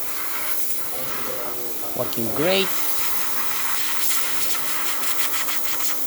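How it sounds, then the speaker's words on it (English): Fast, forceful steam jetting from the wand of a Quick Mill Sylvano Evo espresso machine, a steady close hiss running throughout with someone speaking briefly over it. "pretty fast steam coming out from this beautiful machine"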